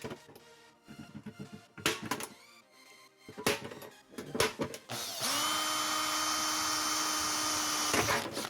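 A power tool drives rivets into a metal enclosure for a hot water urn. A few short bursts of drilling and whirring come first, then one sustained, loud mechanical whine runs for about three seconds before it stops.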